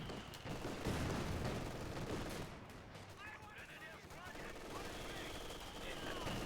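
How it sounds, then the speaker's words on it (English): Battle noise from the strategy game Company of Heroes 2 with MG42 machine gun fire, dense rattling bursts and explosions in a loud, continuous wash of combat, a voice talking faintly beneath. "MG42 doing some work"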